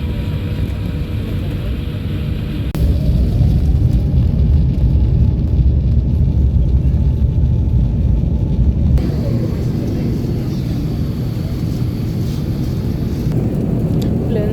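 Airplane taxiing on the runway, heard from inside the cabin as a loud, steady low engine rumble and roar with a faint whine that shifts pitch midway.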